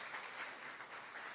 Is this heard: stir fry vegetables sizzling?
no